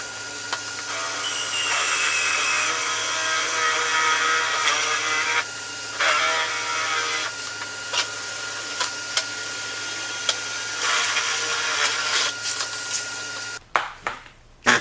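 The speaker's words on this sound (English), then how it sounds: "I turn on the vacuum." A loud vacuum drones steadily for most of the stretch, with intermittent mechanical clatter and brief dips before it cuts off near the end, while collecting fiberglass dust during drilling.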